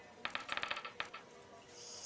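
Thrown craps dice rattle and bounce across a casino table in a rapid run of crisp clicks, with a last few taps before they settle against steady background hum.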